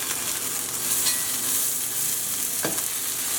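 Spice-rubbed chicken sizzling in a hot pan as the pieces are flipped, a dense continuous frying hiss with a brief scrape of the turn near the end.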